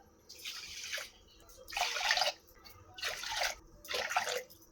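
Raw rice being washed for ven pongal, water sloshing and swishing in four distinct bursts with short pauses between, close and fairly quiet, no talk.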